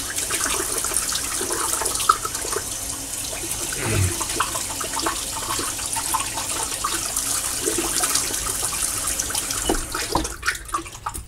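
Warm tap water runs steadily over a big shaving brush in a sink, splashing and gushing as the flow is broken up, with a few knocks and shifts near the end.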